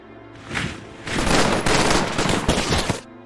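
Video game gunfire while attacking an AA gun, dense bursts of rapid shots forming a sustained loud fusillade with brief pauses between volleys.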